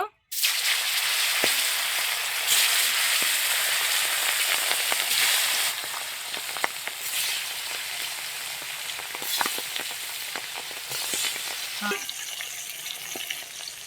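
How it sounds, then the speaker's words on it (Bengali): Fish pieces fry in hot melted fish oil in a pan, a loud, dense, continuous sizzle and crackle close by for the whole stretch, easing a little partway through, with a few stirring clicks and no talking. "এবার এই তেলের মধ্যে মাছগুলো দিয়ে দেব"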